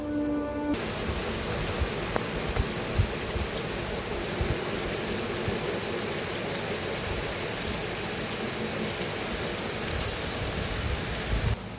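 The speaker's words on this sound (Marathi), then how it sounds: "बाहेर असा पाऊस पडायला लागलाय" Rain falls steadily outside, a broad, even hiss of drops on surfaces that holds at moderate loudness throughout, with no voices.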